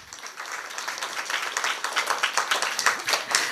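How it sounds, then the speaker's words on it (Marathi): Audience at a Navratri devotional kirtan clapping together, a dense, steady burst of applause that swells slightly and continues throughout. "आनंदी आहात म्हणून तुमच्याबद्दलच टाळ्या वाजवा तुम्ही"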